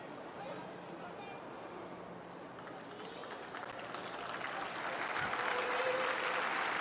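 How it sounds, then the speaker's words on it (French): A stadium crowd at Stade Auguste Delaune applauds during a women's D1 Arkema football match between Reims and Lyon, a soft, distant patter that swells gradually over faint crowd murmur. "Les applaudissements du public"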